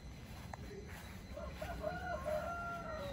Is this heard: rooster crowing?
yes